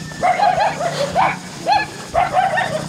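A puppy gives several high, yappy whines and yips in short bursts, fairly close, with a low rumble of background noise underneath, in the Indonesian hills.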